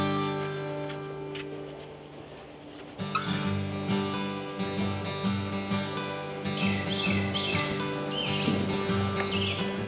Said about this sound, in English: we just had a couple of red-shouldered hawks cruise right over us